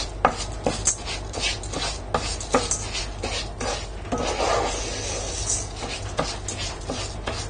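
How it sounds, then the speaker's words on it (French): Rice being stirred into melted butter in a pan for a vegetable risotto, with a utensil scraping and rubbing steadily and the pan knocking now and then, close and clear, with no voices. "on va ajouter le riz au beurre. Et on va bien enduire ce riz de beurre pour éviter qu'il ne colle"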